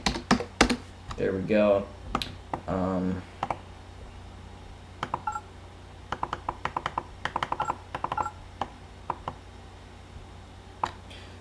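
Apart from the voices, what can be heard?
typing on a Kingston computer keyboard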